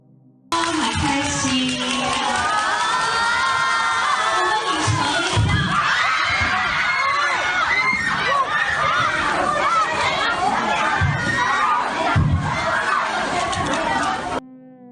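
A dense crowd of fans at a promotional event for a movie, shouting, cheering and chattering loudly and continuously, with scattered thumps and children's shrieks in the mix.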